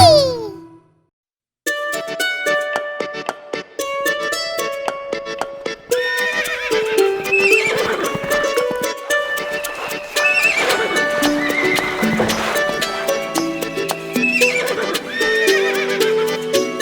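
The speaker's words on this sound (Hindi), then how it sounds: "एक छबीला घोड़ा था, एक छबीली घोड़ी थी।" A cartoon horse neighs repeatedly and its hooves clip-clop in rhythm in a Hindi children's nursery rhyme, set against bright, upbeat music with dense melodic notes.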